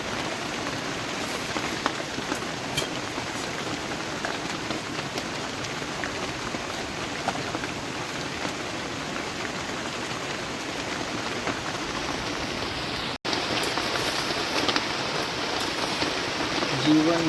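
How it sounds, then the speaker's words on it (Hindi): Steady outdoor rain pours down without pause, a dense, even hiss of drops hitting surfaces that grows slightly louder near the end, with voices faintly present underneath. "जैसे ही तवे पे एक पराठा आया वैसे ही बारिश भी ऊपर आ गई।"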